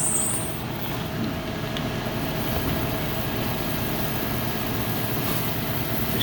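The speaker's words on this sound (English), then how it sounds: "See how it rides right on top of the piece of tooling and the bed rotates away from this cutting stone." A camshaft grinding machine with a cutting stone regrinds a Honda D16Y7 camshaft, giving a steady, continuous mechanical drone and hum with a faint high whine, unbroken and close.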